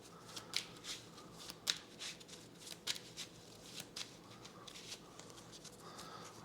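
Mage Knight board game cards being shuffled by hand, a series of quick riffling bursts close up, alone with no talking.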